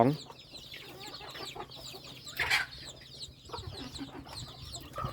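A red junglefowl clucks softly in short, repeated bursts, with a few sharper calls mixed into quiet background noise.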